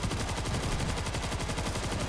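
A big automatic gun fires in the zombie shooter World War Z, a rapid, unbroken stream of loud, close shots with no pauses and no talking.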